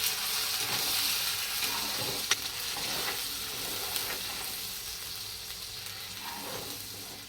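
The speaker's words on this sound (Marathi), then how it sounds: "अद्रक लसूणचे पेस्ट भा मसाल्यामध्ये चांगला मसाला भाजून घ्यायचा" Ginger-garlic paste and masala roast in hot oil in a pan for a rohu fish curry, giving a steady, close frying sizzle with faint stirring scrapes throughout and no voices.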